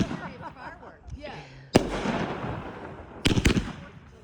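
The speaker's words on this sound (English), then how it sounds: "July fireworks." New Year's Eve fireworks burst outdoors in sharp loud bangs, one big report near the middle and a quick double crack toward the end, with crackling and rumble trailing off, while people talk and cheer around them.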